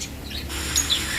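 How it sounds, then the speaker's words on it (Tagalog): A few short, high bird chirps ring out briefly over a soft, steady outdoor hush in a quiet garden. "Ito yung tahimik na lugar na wala kang ibang maririnig kundi huni ng ibon."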